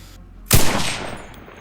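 A single loud rifle shot on a shooting range in Enlisted, a sharp crack followed by a long fading echo, alone against a quiet background.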